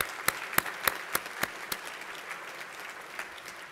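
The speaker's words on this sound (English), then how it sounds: "If I could just lead that applause" Scattered, light claps that fade out within a few seconds, sounding like a small group in a large room rather than a full ovation, at a medical school white coat ceremony.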